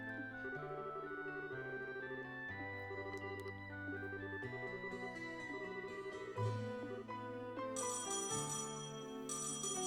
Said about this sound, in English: a mysterious phone call